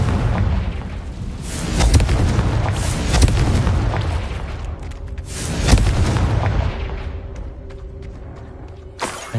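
Booming Confringo spell blasts in Hogwarts Legacy on PS5, with several loud, deep explosions over a rumbling din, each burst swelling and fading before the sound thins out near the end.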